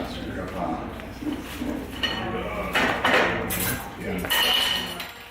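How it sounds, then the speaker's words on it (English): Plates, spoons and glasses clink and clatter as staff clear and clean tables in a busy Hong Kong Cantonese restaurant, a steady jumble of crockery and cutlery knocks with indistinct background chatter throughout. "they were cleaning all the tables around me, and all you could hear was the clinging and clanging of plates and spoons and glasses"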